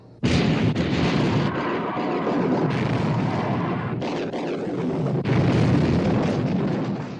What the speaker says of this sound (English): All turrets ready to open fire, sir.